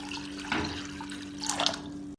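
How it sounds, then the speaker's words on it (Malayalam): Water poured over lentils in a pressure cooker, two short splashing bursts against a steady low hum, with a sharp click near the end and no speech. "ഇതിലേക്ക് പരിപ്പ് നല്ലോണം മുങ്ങിക്കിടക്കുന്ന പാകത്തിന് വെള്ളം ഒഴിച്ചു കൊടുക്കാം."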